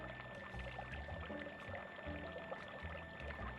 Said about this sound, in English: Today I'm using unsweetened almond milk, but you can really use whatever milk you want, and we have 2 cups of that going in.